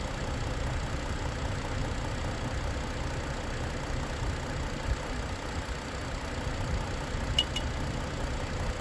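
A Ford Explorer engine idles steadily during an air conditioning recharge, a constant low rumble that stays even and unchanging throughout, with no talk over it.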